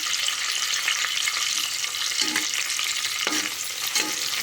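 Biryani spices with a bay leaf and cloves frying in a pan for veg biryani, a steady close hot sizzle with some stirring throughout, no voices.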